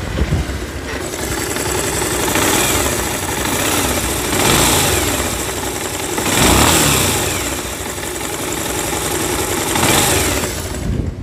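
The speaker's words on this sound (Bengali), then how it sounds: "ইঞ্জিন থেকে ঘট ঘট ঘট ঘট সাউন্ড আসতেছে" An old Pulsar motorcycle engine runs steadily near at hand with a rough, repetitive knocking clatter, its loudness swelling gently a few times as if lightly revved.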